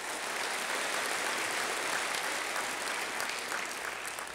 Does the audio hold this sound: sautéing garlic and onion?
no